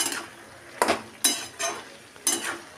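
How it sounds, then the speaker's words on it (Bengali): Cabbage curry is stirred in a pan while a light sizzle runs underneath. Four or five distinct scraping strokes come at irregular intervals, close and moderately loud, and no one speaks. "পুরো বাঁধাকপিটা দিয়ে দিলাম, দিয়ে আবারও ভালো করে নাড়াচাড়া করে নিচ্ছি।"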